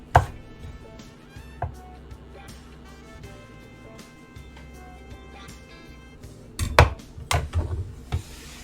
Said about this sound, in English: Cut it finely against the grain so we don't have to worry about the blender doing that for us.